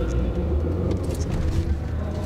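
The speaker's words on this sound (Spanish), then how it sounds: "Ese ruido de motor, ese coche en el que lo ves con una dinámica ágil, meterlo en el metro," A Mini car drives through a Madrid metro tunnel, its engine a loud, continuous low rumble that echoes steadily in the enclosed space.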